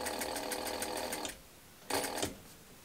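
Sewing machine stitching a label onto a quilted toiletry bag: a rapid, steady mechanical chatter runs for over a second, stops, then returns in a shorter close burst.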